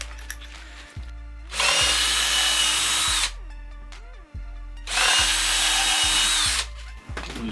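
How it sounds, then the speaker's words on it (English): A power drill whirs in two long, loud bursts while drilling a snug screw hole for a DIY electric skateboard battery enclosure, briefly spinning up and stopping between them, close by with no talking. "Make sure your drill size is not too big. You want a nice snug fit."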